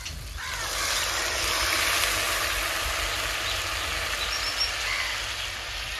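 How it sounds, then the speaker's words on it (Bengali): Water poured into a hot pan of prawn curry masala sets off a loud, continuous sizzling hiss that swells just after the pour begins and stays steady without talk. "এবার আমি জলটা দিয়ে দেব।"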